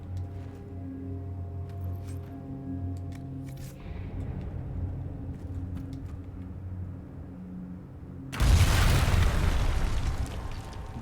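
A video game explosion in Dragon Age: Inquisition bursts in loudly around the eight-second mark as a broad roaring blast, following a stretch of steady low musical drone and humming ambience.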